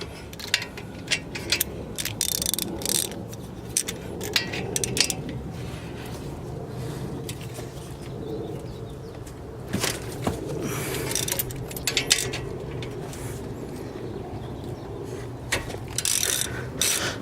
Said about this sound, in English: you're going to use a hex, which is a 7mm, to remove those bolts